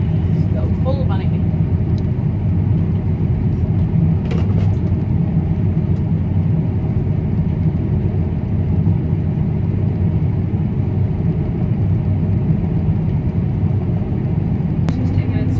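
A harvesting machine's engine runs in low gear in a corn and bean field, making a loud, steady, close drone with a heavy low rumble throughout.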